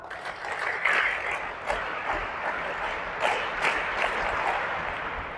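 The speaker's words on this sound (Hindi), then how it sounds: "तालियां बजा दो यार।" Audience at a special workshop at NCC Headquarters, Delhi, applauding as a dense, steady wash of clapping that holds at a moderate level, near and continuous for several seconds with no talk on top.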